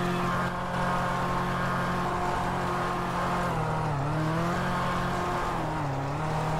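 A loud car engine in GTA V roars steadily and close, its pitch sliding down and back up as it revs, continuous with no talking.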